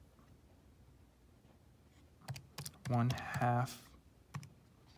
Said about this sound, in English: let's go ahead and try our best to type this all in properly